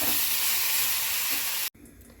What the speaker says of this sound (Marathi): यामध्ये आपण अद्रक आणि लसूण पाकळ्या घालून घेणार आहोत आणि 2 मिनिट छान परतू देणार आहोत.